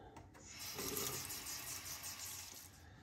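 Steady rushing splash of water rinsing a face after a straight razor shave, close and continuous for a few seconds with no talking.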